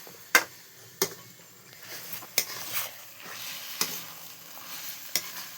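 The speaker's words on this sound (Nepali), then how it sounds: "यसरी भुट्न लाग्नु भएको" Small chicken meat is stir-fried with spices: a soft sizzle runs underneath while sharp metallic spoon scrapes and knocks against the pan sound roughly once a second, close and without talk.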